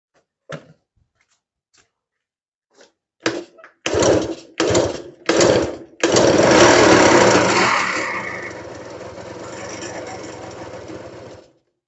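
A small RC model nitro engine that is hard to start sputters through several brief failed catches, then fires and buzzes loudly at high revs before slowly fading out.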